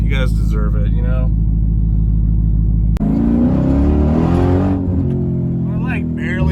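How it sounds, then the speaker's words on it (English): A Dodge Demon's supercharged V8 drones loud and close from inside the car, then revs sharply and holds at high rpm with a heavy, layered roar before settling back down. A person talks over the engine noise at times. "I love how high this revs, like it just hangs."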